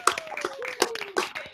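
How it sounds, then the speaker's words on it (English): Scattered clapping from unmuted participants at an online school graduation celebration, a few separate sharp claps spaced irregularly, thin and close-miked, with a faint tone running underneath. "I now warmly welcome you to unmute yourselves, cheer and clap and celebrate with each other."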